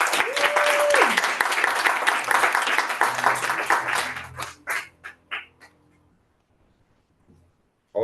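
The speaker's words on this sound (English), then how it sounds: "Congratulations and a round of applause." Applause from a Toastmasters club meeting audience congratulating the newly named club secretary, a dense burst of clapping that thins out into scattered claps and fades to near silence.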